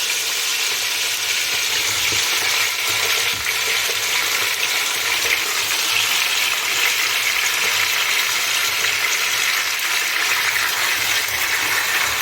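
Chicken thighs in hot oil in a pot on a gas stove, a loud continuous sizzle and crackle close by, steady throughout with no voices.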